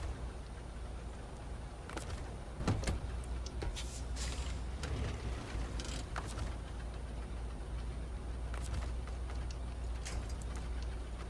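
Truck engine in the SnowRunner video game rumbles low and steady throughout, with a few sharp clunks and knocks early on, no talk over it.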